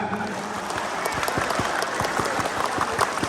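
A large crowd at an outdoor campaign rally performs the rhythmic scout clap, sharp claps falling in a patterned, accelerating sequence over loud crowd noise.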